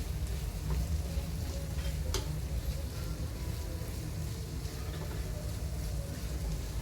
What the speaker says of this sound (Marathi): भाजून घेतली होती ती भेंडी त्यात आपण सोडतोय